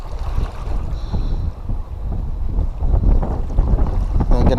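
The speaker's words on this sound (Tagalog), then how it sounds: "Grabe, lakas ng hangin, no?" Strong wind gusts across an open fishing spot on the water, a steady broadband roar buffeting the microphone throughout, with brief faint voices in the background.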